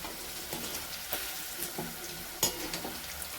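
Ginger-garlic paste, pounded in a mortar, sizzling with onions in hot oil in a pan for tur dal; a soft, faint crackle with light stirring scrapes and occasional clinks.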